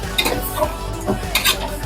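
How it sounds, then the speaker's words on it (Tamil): A spoon scrapes and clanks against a metal pot while biryani is stirred after mint goes in, several distinct knocks and scrapes in uneven rhythm over a low background sizzle. "இதில் புதினா போட்டு கூட நல்லா கிளறி விடுங்க"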